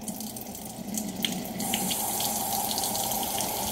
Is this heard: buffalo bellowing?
no